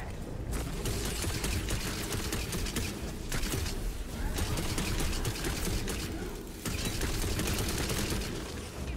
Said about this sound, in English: Machine gun on!